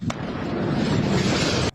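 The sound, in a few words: powerful explosions from Israeli bombing of Tartus port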